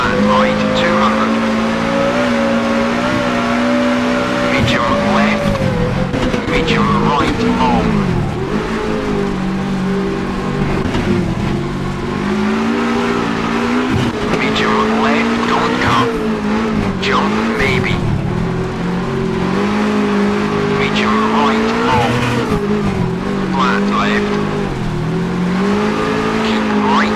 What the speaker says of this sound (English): you can just enjoy the sound of this car. It sounds incredible.